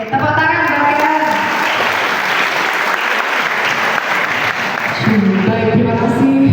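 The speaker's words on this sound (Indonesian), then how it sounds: "tepuk tangan buat Karen" A class claps for a student named Karen, a dense, loud round of applause sustained for several seconds before a voice begins speaking near the end.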